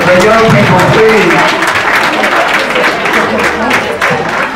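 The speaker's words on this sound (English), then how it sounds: "let's give these young people a big round of applause" Audience at a mock trial event claps in a burst of applause that fades slightly, with people talking over and around it.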